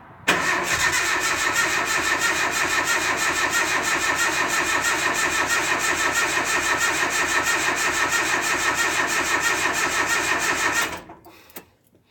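A green truck engine cranking for about eleven seconds in a fast, even, continuous rhythm, loud and close, before cutting off abruptly, with no talking.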